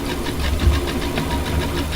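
A 3D-printed air turbine spins with slight rubbing, making a loud, continuous whirring hum with a low rumbling undertone and faint rhythmic scraping pulses.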